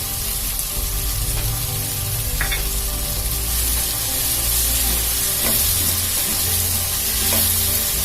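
Ginger garlic paste sizzles and fries steadily in a hot pan for a white hotel-style veg kurma, with occasional stirring scrapes over a constant crackling hiss.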